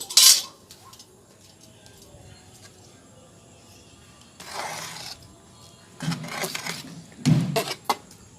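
Khichdi being mixed in a pot after water is added: scraping and clinking of a spoon against metal in a few bursts, loudest near the start and toward the end, with quiet gaps between.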